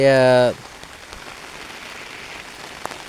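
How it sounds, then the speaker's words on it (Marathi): A short tonal sound opens, then rain falls in a soft, steady patter with an occasional louder drop. "थोडा पाऊस आला म्हणून थोडं आपण झाडाखाली थांबलो आहे"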